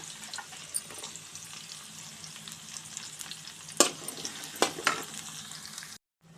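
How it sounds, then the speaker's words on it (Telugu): Slices of bitter gourd fry in oil until golden. A steady close sizzle runs throughout, with a few sharp crackles and pops standing out, and it cuts off abruptly at the end. "ఇవి కూడా అలాగే గోల్డ్ కలర్కి వచ్చే వరకు ఎంపుకొని తీసి పక్కన పెట్టుకోవాలి"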